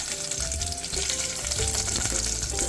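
Teppal (Sichuan-pepper-like spice) sizzling as it drops into hot coconut oil for a Goan sardine curry, a steady close crackle of frying that holds evenly throughout with no talk.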